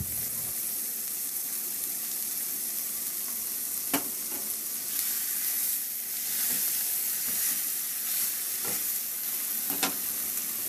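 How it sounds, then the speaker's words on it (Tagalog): Tomatoes seasoned with salt and pepper fry in a pan with a constant soft sizzle and hiss, broken by a few sharp clicks of a utensil stirring, and no voices. "Ihalo lang din hanggang sa maluto talaga yung kamatis."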